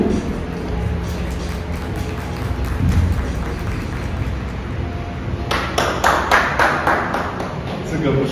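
Lin Peixiang claps in praise after Nana shows off her dance skills. A quick run of close, sharp claps comes in the second half, over steady background noise.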